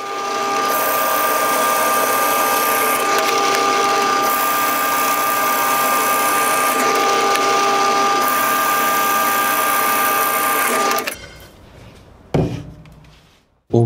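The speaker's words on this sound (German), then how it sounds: "Hier habe ich einen 15 mm Forstnerbohrer verwendet." A 15 mm Forstner bit bores into wood for a homemade sparkling-wine or wine glass holder, giving a loud, steady whining drill noise that runs for about eleven seconds before stopping, followed by a few faint handling knocks.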